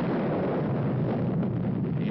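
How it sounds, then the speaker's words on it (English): A French atomic bomb, mounted on a tower in the Mururoa lagoon, detonates as a heavy, sustained roar. The rumble is broad and steady across the whole stretch, with wind-like buffeting, and no one speaks. "The A-bomb, mounted on a tower in a lagoon, turns the sky white at the moment of detonation."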